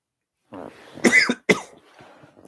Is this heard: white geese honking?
no